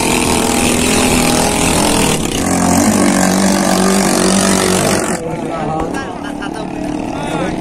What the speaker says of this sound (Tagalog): Mga fiber na bangka.